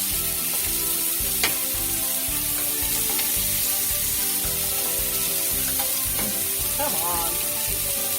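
Chicken sizzles steadily while cooking over charcoal, a loud, dense crackle that holds throughout, with occasional clicks and scrapes from turning the pieces and a brief muttered voice.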